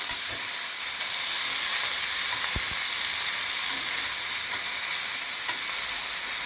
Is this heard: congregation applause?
no